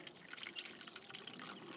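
Fresh water poured into a lovebirds' water dish, a faint, close trickling and splashing with small drips, quiet and without talk.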